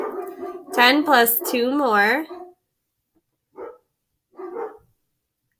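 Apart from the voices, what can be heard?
dogs barking in the background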